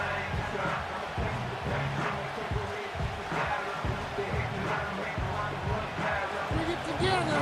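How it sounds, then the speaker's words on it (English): Home crowd in a video-game NFL stadium at East Rutherford for a Broncos versus Giants simulated game gives a steady, dense roar that fills the whole stretch without a break. "you can already hear this home crowd rally in support of that upset"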